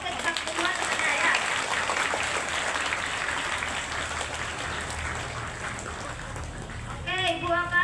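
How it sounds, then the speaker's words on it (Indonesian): Steady applause from a crowd fills the room, a dense wash of clapping that holds throughout, with a brief tonal sound near the end. "tepuk tangan yang keras buat kedua temannya ya"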